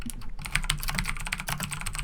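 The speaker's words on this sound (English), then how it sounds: "No, you're typing it." Rapid computer keyboard typing, a steady run of light clicks and taps close by, continuing without pause over a low background hum.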